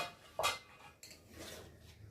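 Potato curry is stirred in a kadai on a gas stove: a close utensil scrape and clatter against the pan, then a second softer scrape after a short pause, with low kitchen background between.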